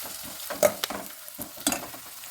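Onions and tomatoes sautéing in a pan give off a soft, steady sizzle, broken by a few louder stirring scrapes and clinks. It is fairly quiet and close, with no talking.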